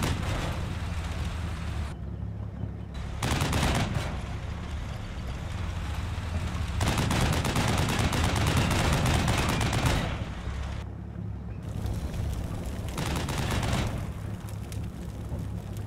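Heavy, continuous gunfire from a tank-combat video game, in dense rolling bursts over a constant engine rumble. The blasts are loud and sustained, with short lulls between them.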